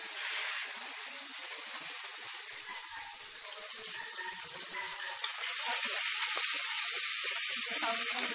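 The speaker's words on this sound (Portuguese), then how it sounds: "Agora aqui, a salsicha, vou deixar ela fritar um pouquinho." Sausage fries in a pan at home with a steady, bright sizzle and hiss that grows louder and denser partway through, with no talking over it.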